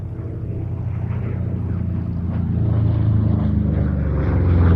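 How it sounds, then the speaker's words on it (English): A P-47 Thunderbolt fighter aircraft drones overhead at a flying day commemorating D-Day, its steady propeller-engine roar growing gradually louder and nearer, with no talk over it. "the P-47 became a very effective air-to-ground fighter-bomber as well as an air-to-air"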